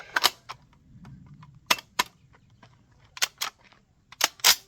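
A Tokarev TT12 shotgun fired from the hip at a gun range, several sharp, loud reports spaced irregularly with quiet gaps and handling sounds between them.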